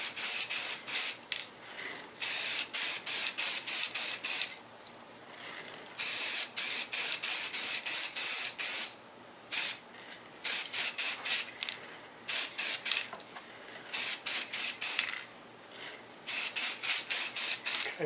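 Aerosol crystal clear coat sprayed onto a matrix mold comes in repeated hissing bursts, each one to two seconds long and separated by short pauses, close and crisp.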